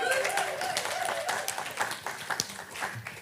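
Audience clapping at a tech meetup talk, a modest scatter of hands at moderate volume, uneven and thinning slightly toward the end, with no speech over it.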